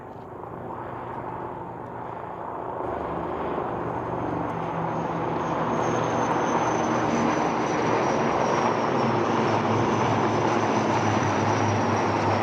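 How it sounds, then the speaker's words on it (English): Three helicopters in formation pass over an air show at Aero India, a broad continuous engine and rotor roar that builds gradually and holds loud and steady, with no talk. "If you will look towards your left, the formation of 3 helicopters"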